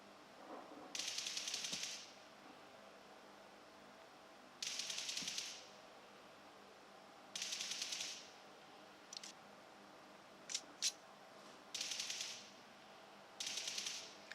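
Gunfire from the video game BGMI plays through realme Buds T310 earbuds in five sharp rapid-fire bursts of about a second each, separated by pauses and a few isolated clicks, with no talk.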